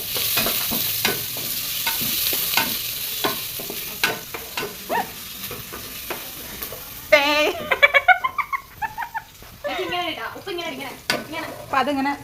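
Ginger and garlic sautéing in a pan for a fish curry, a low sizzle under repeated clicks of a spoon stirring against the pan, then a stretch of bird or cat-like chirps and squeaks nearby, with no speech.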